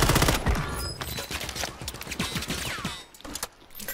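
Video game gunfire in Warzone, a battle royale shooter: rapid overlapping shots and bursts crackle through a busy firefight, fairly loud and continuous with mechanical clatter, tapering off toward the end.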